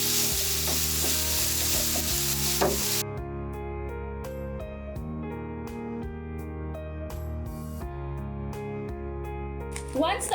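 Ground beef sautés in a pan with a steady sizzle under tonal background music, and stirring scrapes come now and then.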